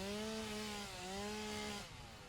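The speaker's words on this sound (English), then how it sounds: "We can test out the chainsaw here." A chainsaw in the video game Satisfactory revs steadily while cutting through greenery, a loud continuous buzzing tone that dips briefly and then cuts off near the end.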